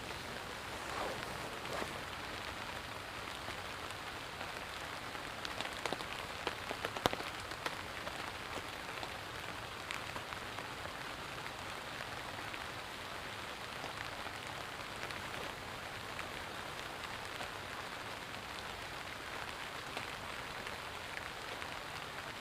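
Steady outdoor rain falling in Baltimore, a dense continuous hiss of drops on surfaces that holds an even level throughout, with no voices.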